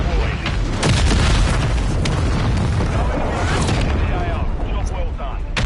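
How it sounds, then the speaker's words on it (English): Mortar strike and cruise missile explosions in Modern Warfare 3 multiplayer: continuous heavy booms and rumbling blasts, loud and dense, with in-game radio voice announcements over the barrage. "Friendly mortar strike on the way. Friendly cruise missile deployed."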